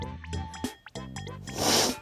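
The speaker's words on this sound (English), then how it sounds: "Ignore sniffles, I have cold" Close, wet nasal sniffs and a snort from a person with a cold, repeated a few times with a breathy exhale at the end.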